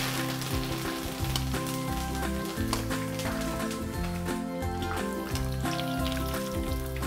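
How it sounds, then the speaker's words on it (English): Spinach crackles and sizzles as it drops into hot frying oil, a busy spattering hiss with music playing underneath. "we're going to just drop the spinach, and that's just going to sizzle on us quickly actually."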